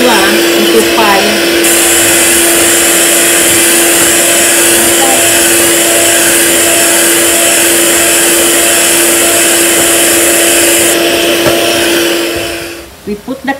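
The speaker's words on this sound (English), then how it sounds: "So this is what we need to do with the Kremdensada by using electric whisk." An electric whisk whips Kremdensada cream in a steady, loud motor whine that runs unbroken for about twelve seconds before cutting off, with a faint voice briefly audible beneath it.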